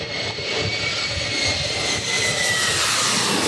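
A loud, continuous jet roar fills the air as an airplane passes close overhead near LAX, steady and broadband throughout.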